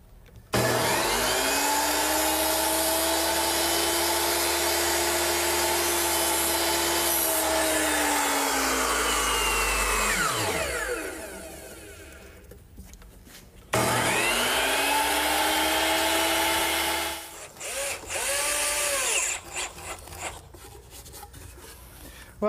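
A power saw tilted to a 13-degree bevel cuts roof rafters: a loud sustained whine that drops as the blade bogs and finishes, a short pause, then a second long cut, with no talking.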